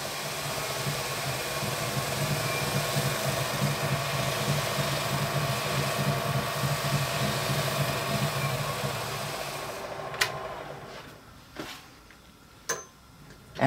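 A wood lathe burnishing wheel runs at speed: a steady motorized whir with a rough, grinding texture for about ten seconds, then cuts out, leaving a few sharp clicks and taps.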